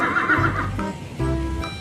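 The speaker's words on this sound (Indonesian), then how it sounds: "yang ini ada kuda zebra" A zebra calls at a zoo, two loud, close whinnying neighs with a brief pause between them, no speech over them.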